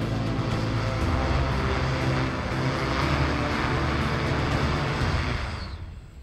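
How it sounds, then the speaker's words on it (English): An eVTOL aircraft on its first test flight comes in to land after hovering over cones, its loud, steady rotor and motor roar filling the clip and then fading quickly as the throttle closes at the end. "Aircraft landed, throttle closed."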